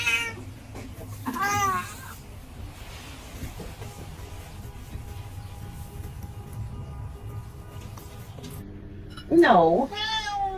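A large, heavy cat meows in loud, drawn-out calls, first near the start and again near the end, over a steady low rumbling background.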